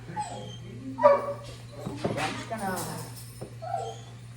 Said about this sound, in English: is this dog really excited to go on walks?